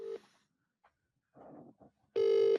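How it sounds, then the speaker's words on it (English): A telephone gives a brief tone at the start, then a steady, loud ringtone burst at the end, with faint muffled voices in the quiet gap between them. "I missed that ringtone. Dial tone."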